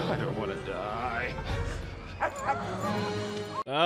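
Dog whimpering in the movie Anchorman, thin high yips and whines mixed into loud film dialogue and reacting voices, ending in a sharp crash-like burst.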